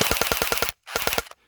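An airsoft gun firing BBs on full auto: two close, rapid bursts of sharp mechanical cracks, the first about seven shots and the second about five, separated by a brief silence, with no talking.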